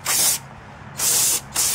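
Brake cleaner sprayed onto new brake rotors in a repair shop, two long aerosol hisses then a third starting, loud and close, with a low hum beneath.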